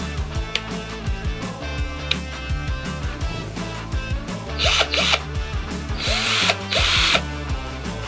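Milwaukee hammer drill run in short bursts, its motor whirring up and down between high and low speed, with brief louder stretches of faster spinning and clicks of handling in between.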